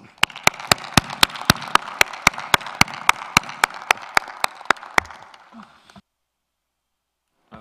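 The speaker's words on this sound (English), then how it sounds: "I invite my colleagues to give you a warm applause for this success" Applause fills the meeting hall of an intergovernmental committee session, a broadband wash of hands punctuated by evenly spaced sharp claps, then stops abruptly, leaving silence.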